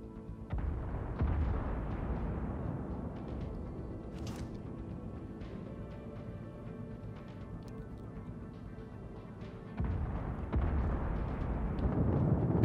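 Naval battle in the video game World of Warships, with warship guns booming in a dense, continuous rumble of heavy explosions and blasts, moderately loud and distant-sounding, with no talk over it.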